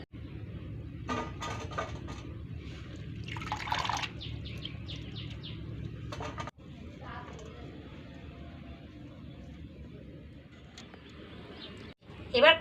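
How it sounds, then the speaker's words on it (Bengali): Jackfruit seeds are washed by hand in clean water, with a few short splashing and sloshing bursts separated by quieter pauses, close and fairly soft. "এবার এগুলোকে পরিষ্কার জলে খুব সুন্দর করে ধুয়ে তুলে নেব।"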